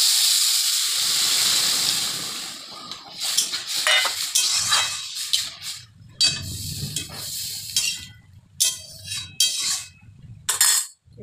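Water hits frying lentils in a hot pan and erupts in a loud burst of sizzling hiss that slowly fades, followed by clinks and scrapes of a utensil against the pan.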